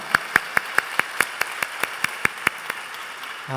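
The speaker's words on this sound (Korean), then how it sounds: "우리 하나님께 감사와 영광의 박수를 올려드리겠습니다" Slow, evenly spaced single claps at a Korean church worship service, about a dozen crisp beats in steady rhythm, moderately close with a soft ambient hall tone and no voices before a brief sound at the very end.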